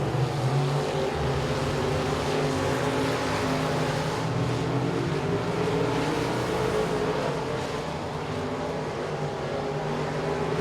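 Race cars circle a dirt speedway oval at Boothill Speedway during the Billy Melton Memorial, a dense, continuous engine roar heard from a distance, steady throughout with no clear passes standing out.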